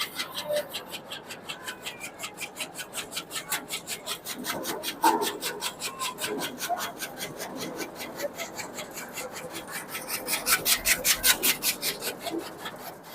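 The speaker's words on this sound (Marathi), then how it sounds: "ही जी चारा कटिंग होतो ही 20 mm च्या साईज मध्ये कटिंग होतो" A Sarpanch-model chaff cutter chops fodder into 20 mm pieces with a fast, regular chopping rasp that repeats in even pulses throughout, close and steady, and grows briefly louder near the end.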